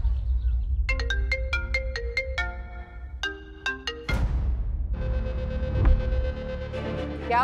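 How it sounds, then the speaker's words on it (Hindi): A mobile phone ringtone in a Hindi TV drama scene, a bright repeating melodic chime of quick tones playing in bursts, followed by a louder sustained ringing with background score beneath. "मिष्टी का फोन है ना?"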